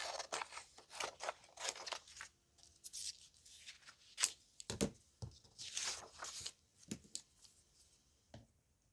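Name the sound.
scissors cutting paper ephemera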